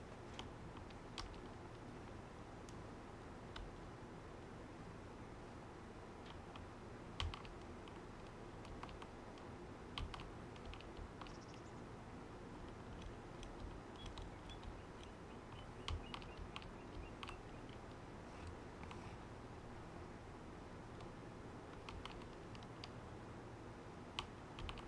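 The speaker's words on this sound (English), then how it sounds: "Also gotta acquire a keyboard. Pretty sure you can hear the tap sometimes. This thing is loud." Clicky taps from an old mechanical computer keyboard, scattered and irregular, sit over a steady low background hum with no voices.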